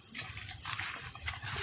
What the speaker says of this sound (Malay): Bagi aku bunyi cengkerik tu ala-ala biasa je lah